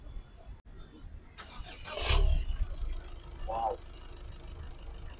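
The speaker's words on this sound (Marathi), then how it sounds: "गाडी चालू करूया." A 2018 Ford EcoSport Titanium diesel car cranks briefly and starts, its engine swelling then settling into a steady idle.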